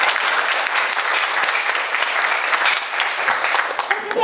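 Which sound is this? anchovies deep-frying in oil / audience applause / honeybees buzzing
audience applause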